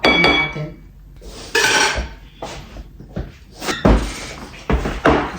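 A lid goes onto a dish of Filipino green mango salad with a series of loud clattering knocks and clinks of kitchenware, several sharp impacts spread irregularly through the clip with brief scrapes between them, and no talk.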